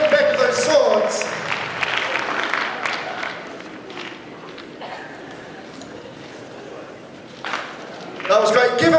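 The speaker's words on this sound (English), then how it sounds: "Give them another round of applause, guys, as they leave the stage." Crowd applause for cosplay contestants leaving the stage at the Supanova Gold Coast cosplay contest, a loud burst at the start that eases to a softer patter, then swells again near the end.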